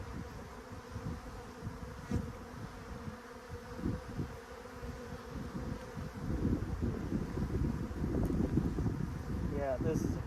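Honey bees from a small colony hum in a continuous buzz, with wind gusts and handling noise, the drone growing louder and denser toward the end; a voice murmurs faintly.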